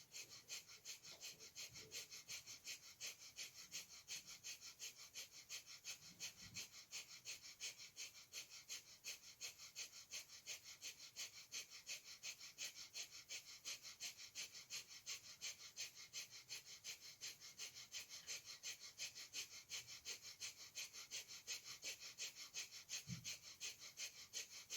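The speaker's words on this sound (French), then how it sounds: "si vous ne savez pas faire la respiration du feu, vous rentrez dans une respiration longue et profonde" Rapid breath of fire breathing in a breathing exercise: quick, even, forceful pants repeat steadily and faintly for the whole stretch with no pauses.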